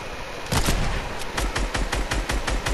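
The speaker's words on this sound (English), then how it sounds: "Damn, the bot's shooting." A Fortnite bot fires a gun in a quick run of about a dozen evenly spaced sharp shots. The shots are close and loud, with no talk.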